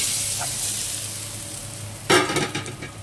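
Rice tossed into hot oil with crushed green cardamom, cinnamon, cloves and a bay leaf, sizzling steadily before a louder burst of crackling as the grains land and are stirred.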